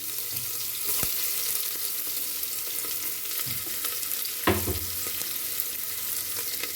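Mustard seeds and onion fry in a pan for a vegetable curry, a steady close sizzle with a few sharp pops and stirring scrapes, no voices.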